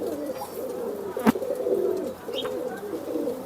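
Soft, low pigeon cooing rolls on continuously, close by, with a brief sharp click partway through.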